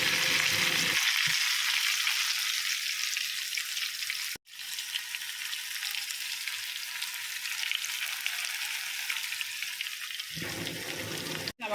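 Pieces of chicken frying in hot oil in a pan, a steady loud sizzle and crackle that carries on throughout, with two brief dropouts where the sound cuts out for a moment.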